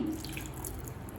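A thin stream of water pours briefly into a vessel holding jaggery, a soft steady trickle lasting about a second with no voices.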